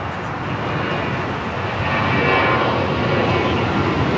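A Boeing 787-9 Dreamliner pushes back at LAX ahead of a flight to Santiago, its engines giving a steady, loud broadband roar that swells slightly midway and holds without pause, with no voices.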